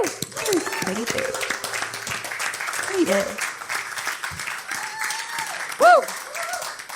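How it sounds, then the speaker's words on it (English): A room of attendees at a sales talk breaks into a round of applause with cheering, steady clapping throughout while voices and a whoop rise over it. "Everyone give a round of applause."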